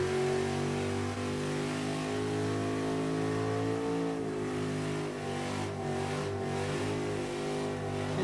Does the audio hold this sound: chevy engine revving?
yes